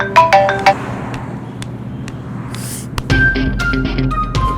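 A phone ringtone plays a short melodic tune of bright tones, then repeats after a pause, loud and near amid background noise.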